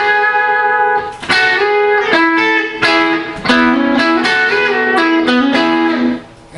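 An electric guitar plays the opening lick of a song at full tempo, a loud, distorted run of quick, bright notes and bends.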